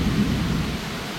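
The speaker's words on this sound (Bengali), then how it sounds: "মুষলধারে বৃষ্টি" A heavy downpour at a hilltop resort in Bandarban makes a dense, steady roar of rain with a low rumbling undertone, loud and unbroken for the short moment.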